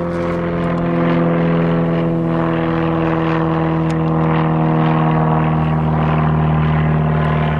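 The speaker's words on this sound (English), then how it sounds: "there's a plane." A propeller airplane drones steadily overhead, a continuous low engine hum with strong tonal harmonics that stays fairly loud throughout, heard outdoors at a Christmas lights setup.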